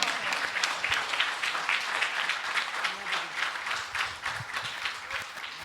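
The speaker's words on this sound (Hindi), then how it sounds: "तालियां बजती रहें, पुस्तक का विमोचन हो रहा है।" Audience applause at a Hindi poetry book launch, sustained dense clapping from a crowd that carries on evenly throughout.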